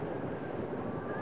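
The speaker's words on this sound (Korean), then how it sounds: "들리는 소리라곤 스산한 바람소리뿐이었습니다" Eerie, howling wind blows steadily and softly in a lonely, empty place, a constant low rushing hiss with no breaks.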